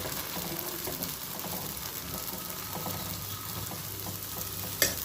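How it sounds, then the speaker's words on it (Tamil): Toor dal dosa batter frying in a hot pan gives a steady, close sizzle that runs evenly throughout, with one brief sharp tap near the end. "இன்னொரு இன்னொரு தோசை ஊற்றிக்கலாம்"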